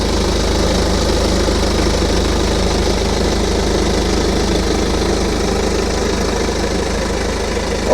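A BMW X3 F25 20d xDrive diesel engine idles steadily and close, a continuous low rumble with a fine diesel clatter and no pauses or speech, holding an even level throughout.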